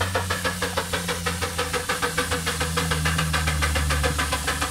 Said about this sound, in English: Now that sounds a bit like an old diesel engine.